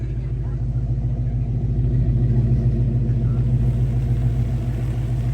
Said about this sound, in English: That's a burnout right there, gang.